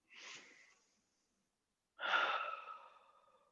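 Close breathing during a virtual evening stretching session: a soft, short breath, a second of silence, then a longer, fuller exhale that fades slowly, with no talk.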